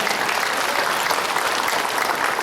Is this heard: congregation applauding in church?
yes